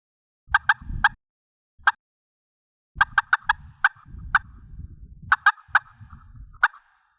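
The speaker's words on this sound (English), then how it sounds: "To cut on a pot and striker call, drag the striker down in a series of sharp, short strokes." Pot and striker turkey call worked in bursts of sharp, short cutting clucks mixed with yelps, loud and close, in several quick clusters with pauses between.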